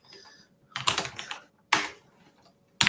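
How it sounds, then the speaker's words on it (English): Fingers tap on a laptop computer keyboard in short bursts of clicky keystrokes, three clusters separated by brief quiet gaps, close and fairly crisp. "I'm actually only typing in here"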